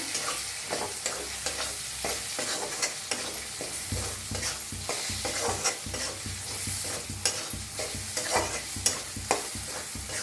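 Spices with turmeric, cumin powder and red chilli roast in a pan, a continuous soft sizzle cut by regular scraping strokes of a spoon stirring them around.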